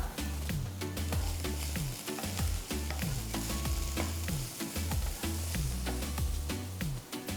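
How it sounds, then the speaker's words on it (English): Chopped capsicum frying with softened onions in a pan for chilli potato, a steady sizzle running underneath loud rhythmic background music with a thumping bass beat. "Once the onions are transparent, add chopped capsicum half cup."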